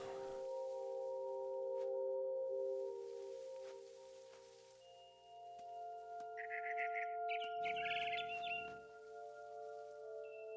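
A frightened bird in the video game What Remains of Edith Finch gives a brief burst of agitated chirping partway through, over a steady, droning tonal ambience.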